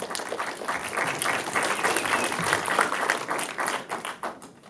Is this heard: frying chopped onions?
no